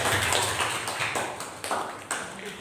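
Schoolchildren in a science class applaud a student group, with a short burst of separate, fairly close hand claps and taps that come in uneven clusters and then die away.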